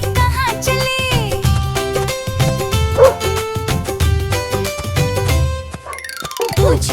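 A cartoon dog yips and barks in a Hindi children's rhyme, repeated playful bow-wows riding over a bright, busy musical backing.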